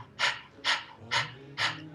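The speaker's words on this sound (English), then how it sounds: "There you go, panting." A person pants like a dog during a spine breathing exercise, four sharp, breathy exhalations evenly spaced about half a second apart, close and fairly loud with nothing else over them.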